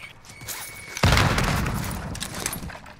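In a shooter video game, a sudden loud burst of gunfire hits after a quiet moment of faint talk, then rattles and decays over the next two seconds.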